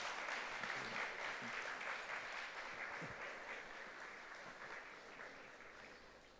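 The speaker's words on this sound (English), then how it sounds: "give a huge round of applause to them" Audience applause at a business conference before a FICCI KPMG report presentation: a continuous, even spread of many hands clapping, fairly distant and quiet, slowly tapering toward the end.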